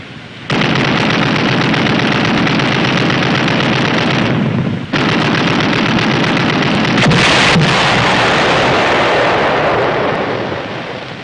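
Submarine deck gunfire, a sustained, loud, roaring barrage of blasts with a brief break midway, close and overwhelming, then tapering off at the end.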